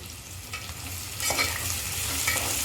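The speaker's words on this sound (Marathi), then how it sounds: "आता कांदा ना चांगला असा आपल्याला ना तेलामध्ये फ्राय करून घ्यायचा आहे" Long-sliced onions fry in oil with whole spices for a prawn rice dish, giving a close, steady sizzle that swells in the middle as a spoon stirs them.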